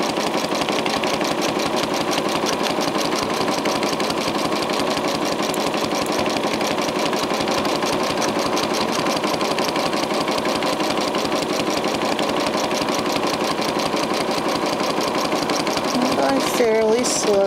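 A sewing machine stitches free-motion quilting, sewing a feather pattern in a steady, rapid mechanical chatter that runs almost unbroken from start to finish, close and fairly loud.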